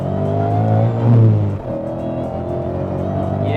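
A supercharged 800bhp Ford Mustang, the Clive Sutton CS800, accelerates hard in second gear with traction control half off, its engine a loud, steady, rising roar heard up close throughout.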